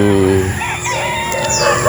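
A rooster crows loud and close on a wide farm with many tethered chickens, followed by softer clucks and bird calls from the flock, with no talk heard.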